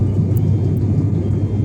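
Inside an airplane cabin during a passenger flight from Bangalore to Salem, a loud, steady low engine drone and airflow roar fills the space evenly with no talk.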